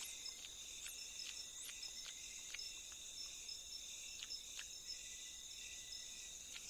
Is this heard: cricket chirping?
yes